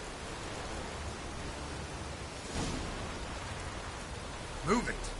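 Continuous rain hiss fills the scene in The Witcher 3 video game, an even broadband wash with a short swell midway and a brief tonal blip near the end.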